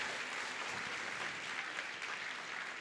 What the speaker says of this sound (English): Clap your hands like it's a possibility.